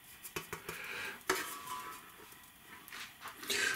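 A metal lid with holes from an Etalon roasting pan is handled nearby, giving a few sharp clanks and knocks with scraping rattles between them.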